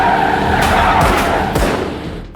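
Car tires skid and screech in a high-speed movie car chase through New York city streets, a loud, continuous scraping burst with sharp thumps, close and upfront with little else over it.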